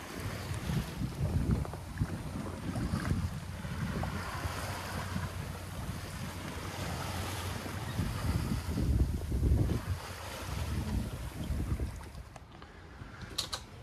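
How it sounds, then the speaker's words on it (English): A sailboat under sail with wind on the starboard quarter, water rushing and splashing along the hull, buffeting wind across the microphone and low rumbling swells, continuous and fairly close with no voices. "we've got about 10 to 12 knots apparent on the starboard quarter, and we're sailing about 6 knots."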